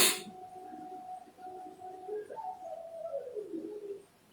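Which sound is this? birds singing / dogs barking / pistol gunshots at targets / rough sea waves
birds singing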